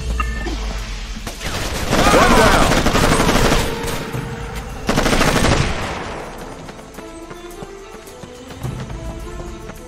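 Video game gunfire in Raven Squad comes in two loud, dense bursts of rapid automatic fire followed by quieter scattered shots and clatter.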